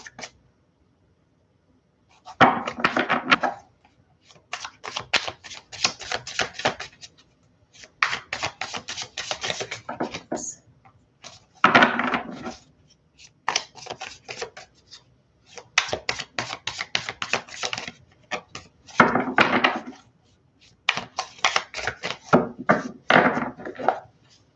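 Tarot cards shuffled in bursts, each a quick flurry of crisp riffling slaps separated by short pauses, close and fairly loud, repeating about eight times with no talking.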